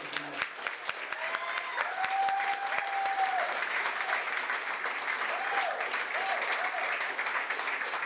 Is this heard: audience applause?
yes